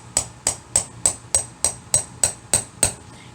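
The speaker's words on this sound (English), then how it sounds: "so a good old hammer will do." A metal hammer strikes a setting tool against corset fabric ten times in a steady rhythm, each blow a sharp ringing tap, close and loud with nothing else heard.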